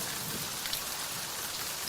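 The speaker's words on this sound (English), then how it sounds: "We need to get out of this rain." Heavy rain pouring down during a storm, a dense, steady hiss of drops hitting surfaces, loud and unbroken with no voices.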